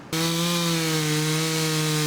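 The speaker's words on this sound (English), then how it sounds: "We use chainsaws, backhoe, and dump trucks and just load it up and haul it out." A chainsaw starts abruptly and runs at a steady high-revving drone while county crews clear fallen trees after a storm, loud and close, without any voices.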